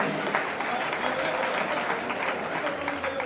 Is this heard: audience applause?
yes